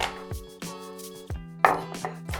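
Three crushed garlic cloves are chopped with a knife on a board, giving several sharp, separate chops spaced irregularly, with one louder strike near the end and no talking.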